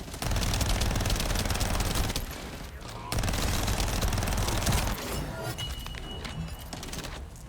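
Rapid, sustained gunfire from the video game The First Descendant, loud and dense, with brief pauses between long bursts.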